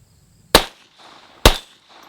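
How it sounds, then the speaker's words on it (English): A .22 pistol fires two sharp, loud cracks about a second apart at a steel plate outdoors, each followed by a brief metallic ring and quiet decay. "Most people have shot a 22 pistol. They know how loud it is."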